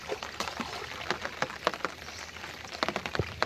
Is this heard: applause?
no